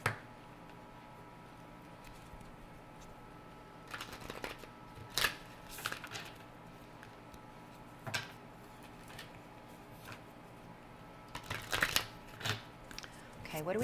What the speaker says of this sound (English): I'm going to go ahead and get a card from the Moonology deck for you just to cap off this reading.